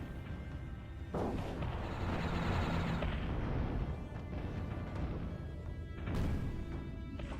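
Weapons fire in the strategy game Zero-K, heavy booming impacts and rumbling blasts, with a sharp burst early and another near the end over a dense low battle roar, with no voices.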